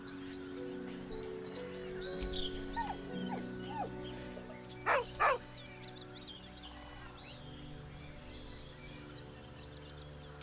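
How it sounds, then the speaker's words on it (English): A dog whines softly in a heartbroken way, with thin high whimpers and two brief louder yips midway, set against a steady low background drone. "With a deep, heartbroken whine, the dog bows his head."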